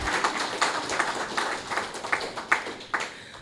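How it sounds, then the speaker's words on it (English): A modest audience at an evening event applauds an award-winning novelist, moderately loud clapping from a smallish group with individual claps distinctly audible, continuing steadily throughout. "So we give him another round of applause."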